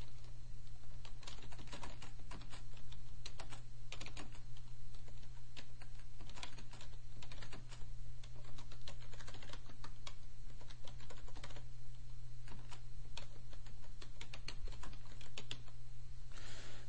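Keys clatter on a computer keyboard as a note is typed into a bookmarking form, a quick, steady run of close, light clicks over a low background hum.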